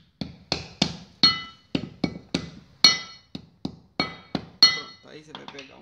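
A seal retainer tapped into place on a Ford Del Rey's suspension, about a dozen light, ringing metallic taps in an uneven rhythm, close and clear, ending in a short burst of quieter clatter.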